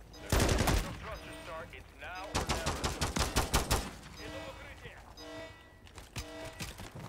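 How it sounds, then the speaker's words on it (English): Bursts of rapid automatic gunfire in Modern Warfare 3 Zombies, arriving in several loud rattling volleys separated by brief gaps, with a voice talking between them. "Who's shooting at me now?"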